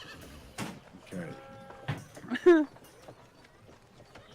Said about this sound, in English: I like that I'm hearing horses and the occasional sheep.